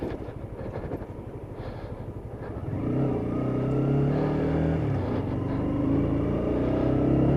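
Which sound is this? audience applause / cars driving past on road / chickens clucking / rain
cars driving past on road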